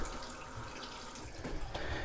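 Bathroom sink faucet at a campground state park running with air in the lines, giving a steady broadband water rush with irregular sputters and spits near the end, close and alone.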